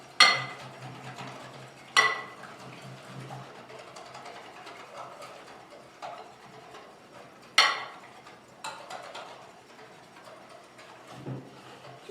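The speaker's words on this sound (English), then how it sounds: "So we're going to stir this until it's all nice and smooth." Mochi batter of rice flour and water is stirred in a pot. Faint scraping and occasional sharp clinks of the utensil against the pot sound at a slow, irregular pace, with no talking.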